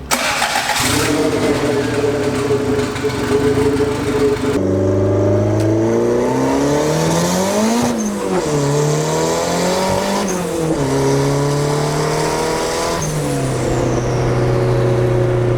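A big-turbo LS-swapped Honda Civic engine idles loudly and then revs repeatedly, its pitch climbing and dropping with each blip and a whistling whoosh as it falls back.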